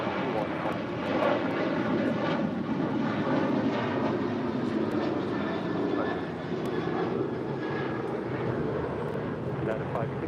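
A United Airlines Boeing 737-900ER jet departs LAX, a loud, steady broadband engine roar filling the whole stretch without letup, with radio chatter from air traffic control faintly mixed in.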